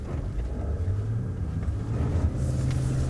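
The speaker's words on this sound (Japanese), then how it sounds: "まずはスノーモードの全開発進をやってみます。" A Nissan X-Trail launches at full throttle in snow mode on a snowy road, heard from inside the cabin as a steady low engine rumble that swells slightly toward the end, with no talking.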